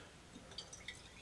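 Titrant from a glass burette drips into a flask in the lab, giving a few tiny, faint, bright drip-splash sounds at close range in an otherwise quiet room.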